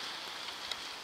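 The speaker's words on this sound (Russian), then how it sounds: "Весь день льет дождь" Steady hiss of falling rain, constant and fairly loud, with a faint drop or two standing out.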